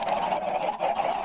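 Minecraft chickens cluck in a rapid jumble of overlapping squawks, many birds stacked together, loud and close with a busy, irregular rhythm and no speech.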